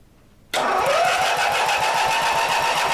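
A rare 43-year-old British garden tractor engine cranks over during a spark test: a loud, close, steady mechanical churn that starts abruptly after a brief quiet moment and keeps running evenly to the end.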